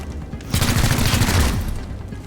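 Burst of rapid gunfire from the video game XCOM: Chimera Squad, a dense volley of shots lasting about a second, loud and close, with no speech over it.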